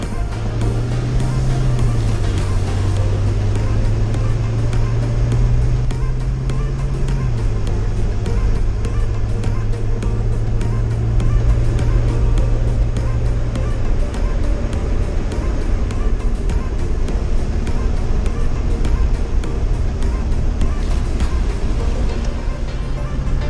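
A 1998 Jeep Grand Cherokee Laredo 4x4 drives down a road, its engine droning loudly and steadily while the pitch climbs and then drops as the gears shift, with road and wind noise throughout.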